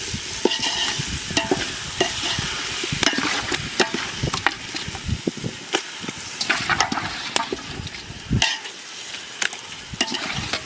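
Chicken goes into a pan of ground ginger and garlic for Chettinad chicken gravy, and it sizzles steadily while a utensil scrapes and clacks against the pan in repeated sharp strokes, close and loud.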